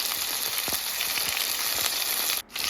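Frog meat fries loudly in hot oil with onion and garlic, a dense steady sizzle broken by occasional scraping stirs, ending in a brief sudden drop.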